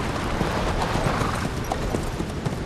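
Horse hooves clip-clopping in Metal Gear Solid V: The Phantom Pain, a steady rhythmic trot of soft thuds over a dense game background, loud and continuous with no talk.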